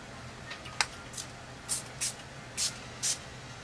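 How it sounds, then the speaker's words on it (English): A spray paint can releases short hissing bursts onto a Dura-Lar film stencil, roughly five or six brief sprays, with one separate sharp click, close and fairly quiet in a still room. "And I'm just going to spray."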